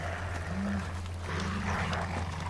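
A low, rumbling growl from a caged wolf in the video game Far Cry Primal comes in two drawn-out bursts over a steady droning hum, moderately loud and close.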